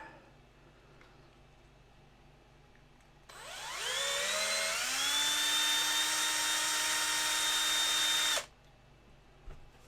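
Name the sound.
drilling a pilot hole in a resin model kit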